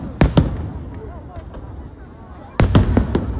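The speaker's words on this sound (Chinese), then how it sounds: "特别像吃鸡里的那个和平精英里的那个烟火" Fireworks go off during a livestream, two clusters of sharp popping bursts at the start and again near the end, with faint crackle and quieter stretches in between and no speech.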